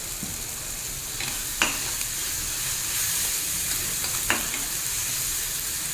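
Ground coriander, cumin and chili powder fry in a hot pan of oil, giving a steady loud sizzle and hiss throughout, with a couple of brief clinks from stirring.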